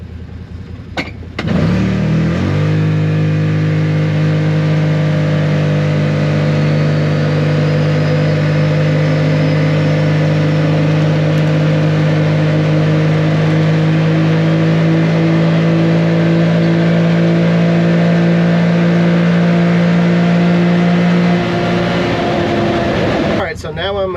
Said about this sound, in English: I'm gonna hit it and let's see how loud these tires are